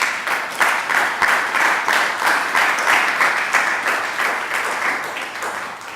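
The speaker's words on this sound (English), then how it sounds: "Give them a round of applause." Warm applause from a sizable audience, a thick wash of clapping that holds steady for several seconds and slowly tapers, with no talking over it.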